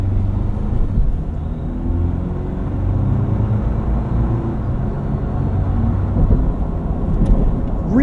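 A 2025 Toyota 4Runner SR5 with a turbocharged 4-cylinder driving, giving a steady low engine and road rumble heard from inside the cabin, continuous and fairly loud.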